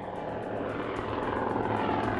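A military propeller aircraft drones steadily overhead with a continuous engine roar and rhythmic throbbing, no voices.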